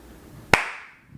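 A single sharp hand clap, close and loud, standing alone in a quiet room with no talk around it.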